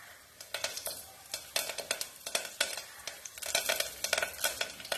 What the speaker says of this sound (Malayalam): കുറച്ച് കടുക് നമുക്ക് ഇട്ട് കൊടുക്കാം കറിവേപ്പില ഇട്ട് കൊടുക്കാം